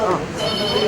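A telephone ringing inside a fire station, a continuous bright electronic trill heard close, with a voice speaking underneath it.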